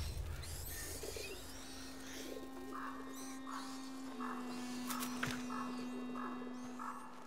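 Owls hooting in a dark woodland scene of A Plague Tale: Innocence, soft low coos repeating in a slow, even rhythm at moderate distance over a steady ambient hum, with a brief faint click partway through.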